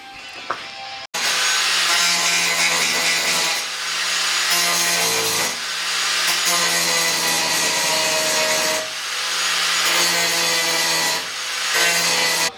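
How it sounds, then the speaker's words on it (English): Rhythmic rubbing strokes of sandpaper on wood, a series of rasping passes with short pauses between, close and fairly loud, with no talking. "Just a little bit of light sanding and she'll be good to paint"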